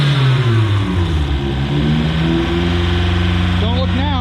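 The turbocharged 1.4-litre MultiAir engine of a 2012 Fiat 500 Abarth revs up and holds at a steady, elevated drone around 2,000 rpm with a throaty hum, loud and close, with a voice briefly heard near the end.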